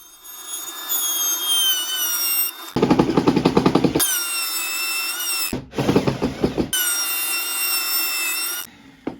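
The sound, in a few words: router table cutting a mortise in wood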